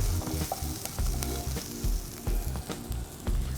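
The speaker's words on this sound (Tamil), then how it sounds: "பாருங்கள், நல்லா வதங்குது" Ingredients sauté in a pan for Chettinad mutton soup. A close, crackling sizzle is marked by repeated thumping scrapes and taps of a spatula working the pan in an uneven rhythm.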